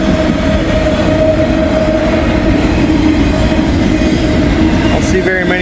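A CSX freight train hauling auto rack cars rolls steadily past close by, a loud continuous rumble with wheel noise and a faint squeal near the end.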